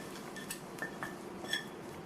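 Tempering being stirred into snake gourd and moong dal kootu, with a few faint metallic clinks of a spoon against the pot scattered over a low, steady kitchen background.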